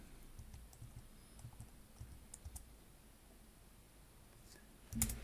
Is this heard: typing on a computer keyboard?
yes